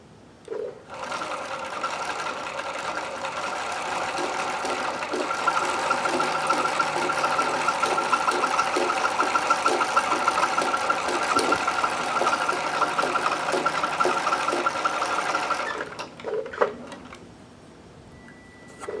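A sewing machine stitches new elastic onto underwear in one long, steady, whirring run with a fast rhythmic clatter, stopping near the end, followed by a few isolated clicks.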